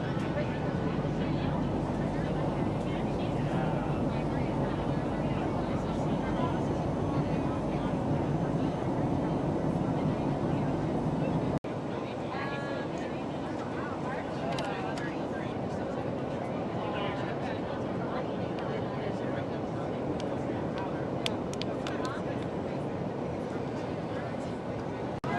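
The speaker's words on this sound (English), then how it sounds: "Engines quiet." Boeing 737 MAX engines on an Alaska Airlines passenger flight, a steady broadband cabin roar at low altitude that drops noticeably partway through, with faint voices and clicks in the cabin.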